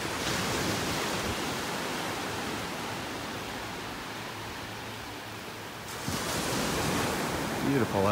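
Gentle surf rolls in from a flat, calm Gulf of Mexico at a North Naples, Florida beach, a steady broad wash of water and light wind noise throughout with no talking.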